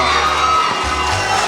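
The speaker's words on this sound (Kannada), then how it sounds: "ಜೋರಾಗಿ ಚಪ್ಪಾಳೆ ಹಾಕಿ" A birthday celebration audience cheers and shouts loudly, a dense crowd roar with whoops, continuous and close throughout.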